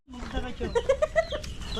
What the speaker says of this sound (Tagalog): Yan guys, mga manok dito.